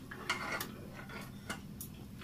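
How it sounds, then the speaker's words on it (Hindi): Chopped almonds, cashews and raisins dropped into sweet porridge (meetha dalia), heard as a few soft, quiet clinks and taps of a spoon against a pot, spaced irregularly with no talking. "तो अब मैं इसमें थोड़े से ड्राई फ्रूट डालूंगी कटे हुए"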